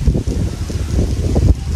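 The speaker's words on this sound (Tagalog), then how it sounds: "Ang lakas pati ng hangin ngayon dito." Strong wind buffets the microphone outdoors in rural Quezon Province, a loud low rumbling roar with gusty surges through the short stretch.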